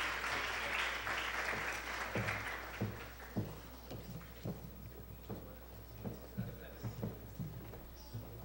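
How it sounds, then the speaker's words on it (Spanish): Applause from an audience at an academic lecture on neuroethics, seeing off the authorities. It starts as a soft, blurred wash and thins into sparse, separate claps that fade toward the end, with a steady low hum beneath. "despedimos a nuestras autoridades con un fuerte aplauso"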